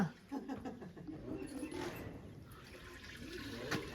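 Water poured into a dish for pet pigeons, a quiet, close splashing pour with a gurgling trickle that continues for several seconds at low volume.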